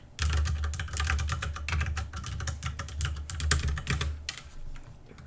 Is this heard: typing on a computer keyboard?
yes